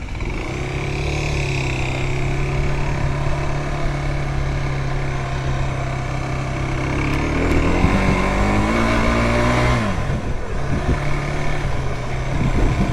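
A 125 cc enduro motorcycle fitted with a sports bike engine is ridden off-road, its engine droning steadily and loudly at high revs with pitch shifts as the throttle changes, close to the listener throughout.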